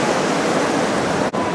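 Choppy ocean waves off the Big Island of Hawaii, a loud, continuous broadband rush of surf and wind noise with no distinct breaks, briefly cut by a short dropout near the end.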